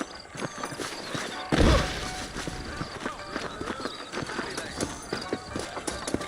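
Horse hooves clip-clop in a Red Dead Redemption game scene, a steady run of dull thuds with one louder burst of hoofbeats, heard under ongoing game dialogue and ambient noise.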